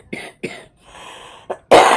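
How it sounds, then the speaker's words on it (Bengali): Someone with a persistent cough and breathing trouble coughs in a close, loud series: two sharp coughs, a wheezy breath, another cough, then a harsh heavy burst at the end. "যখন কাশিটা শুরু হচ্ছে তখন বন্ধ হচ্ছে না"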